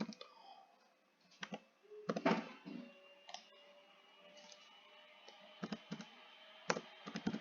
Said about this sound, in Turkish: Ben şu an Binance User ID'ni burada sisteme yazıyorum